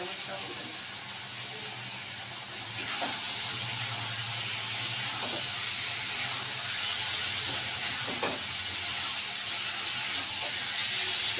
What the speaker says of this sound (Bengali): এবার আমি গরম জলটা দিয়ে দেব।